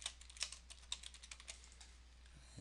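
Rapid, light clicking of computer keys typed at a desk during SQL Server work, a quick irregular run of close, crisp keystrokes with small pauses, fairly quiet and with no talking.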